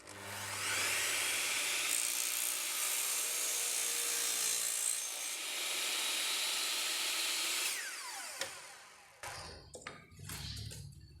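A saw makes a straight cut through chestnut wood for a window frame, a loud steady rasping whir lasting about eight seconds before it stops, followed by a few knocks and scrapes.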